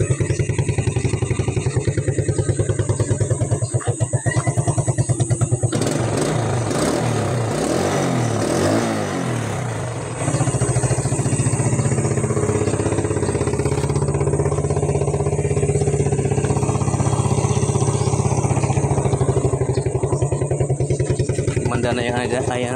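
A motorcycle engine idles steadily after a valve clearance adjustment and tune-up, a close, even mechanical chug with a brief rise in revs midway, while someone talks over it.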